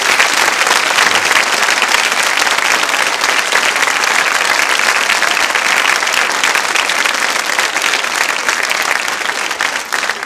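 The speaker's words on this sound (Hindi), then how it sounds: "तालियां इस संकल्प के लिए जोरों से बजाइए आप।" A large audience at a Holi quiz show in a girls' B.Ed college applauds loudly, with dense, sustained clapping that stays strong and even throughout.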